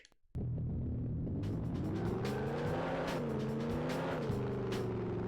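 A car in the PS1 game 007 Racing roars to life abruptly and holds a steady, loud engine drone that rises and shifts pitch as it drives, with a rumbling low end throughout.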